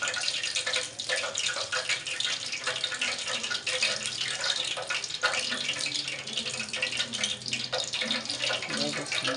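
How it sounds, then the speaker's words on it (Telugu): Hot oil for frying punugulu fritters sputters and crackles steadily in a frying pan, a dense, continuous sizzle with sharp pops throughout. "ఒక్క చుక్క బొట్టుకు నీళ్ళు పడేటప్పటికి టప్ప టప్ప టప్ప టప్ప సౌండ్ వస్తుంది."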